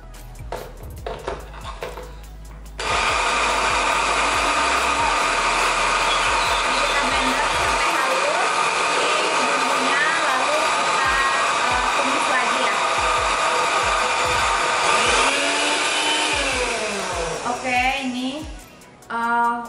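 A blender roars loudly and steadily for about fifteen seconds while grinding a spice paste, starting and stopping abruptly, with brief speech before and after.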